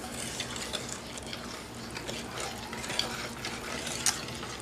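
Water and vegetable oil are poured into a saucepan and stirred for no-melt snow dough, giving soft, continuous sloshing and liquid stirring with faint clinks of utensil against the pan, fairly quiet throughout.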